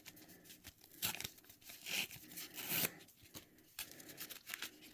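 Foil Bomberman trading card booster packs tear open in repeated crinkly rips and rustles, close and fairly loud, with card shuffling in between and no talk.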